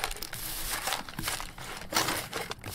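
Crumpled paper towels and broken glass are gathered up outdoors in wind, with close crinkling, rustling and scrunching that rises and falls in uneven bursts.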